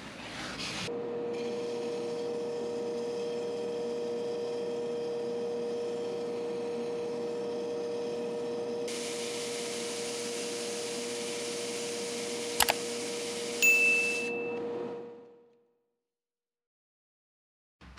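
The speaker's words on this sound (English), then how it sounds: "I'm just going to take half sheets of sandpaper and go" Half sheets of sandpaper rub across a turned wooden box spinning on a woodturning lathe. The motor hum and the soft, steady abrasive hiss run together for about fifteen seconds, then the lathe winds down into silence.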